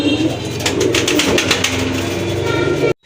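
Rajgolla pigeons at a pigeon sale coo steadily in a low, throaty drone, several birds close by and continuous, with no voices, ending abruptly.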